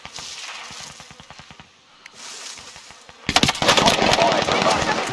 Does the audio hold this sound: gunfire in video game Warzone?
yes